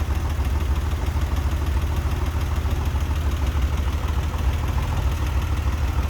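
An air- and oil-cooled 3.6 liter flat-six in a 1996 Porsche 911 Carrera idles with a steady, even churning rumble, close and continuous with no talk.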